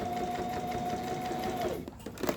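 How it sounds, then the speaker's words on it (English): A sewing machine runs steadily, stitching a seam on a danceline boot, with a constant motor whine that slows and stops near the end, followed by a couple of faint handling sounds. "hold it as tight as you can and sew off of it"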